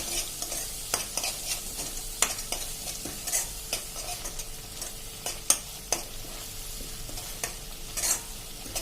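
Spices sautéing with tomato gravy in a pan for a potato and pea curry: a steady low sizzle broken by repeated scraping, clinking spoon strokes as the mixture is stirred, close and moderately loud.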